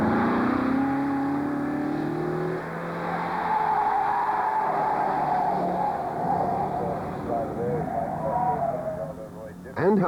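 Lancia Flavia Zagato lapping a timed slalom course at an airfield near Dover, its engine revving and shifting pitch as it accelerates and turns, with a commentator talking over it throughout.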